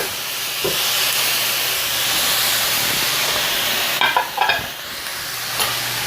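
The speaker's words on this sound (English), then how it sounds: "We're gonna add the sauce that we made earlier. And the pork." Sauce and pork hit a hot pan in a broccoli and pork stir-fry and burst into a loud, continuous hissing sizzle, with a few clattering stirs of the utensil partway through, close and without voices.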